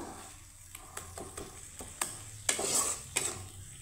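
A spice mix of turmeric and masala with a little water fries quietly in a pan under a soft hiss, punctuated by several sharp scraping stirs and clinks.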